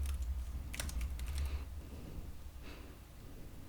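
Quiet, sparse keystrokes on a computer keyboard come in a few short clusters over a faint low background hum, with no speech.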